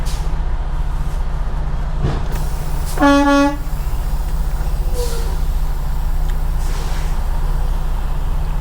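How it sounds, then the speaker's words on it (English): A single loud blast of a truck air horn, about half a second long, over a steady low engine rumble. "First thing I'm gonna do is I'm gonna honk my horn."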